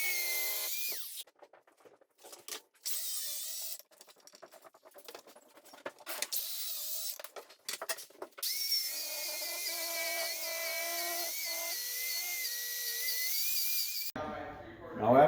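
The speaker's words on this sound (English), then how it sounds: "he is holding that sander at probably like a 5-degree bevel" Power sander cutting a roughly 5-degree bevel into the wooden top of a legless floating bench, a steady high-pitched whine that starts and stops in short bursts before running continuously, close and fairly loud.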